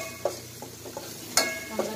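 Garlic dropped into a hot pan while cooking a creamy spaghetti sauce, giving a low steady sizzle broken by a few short stirring and pan clinks, one louder scrape near the middle.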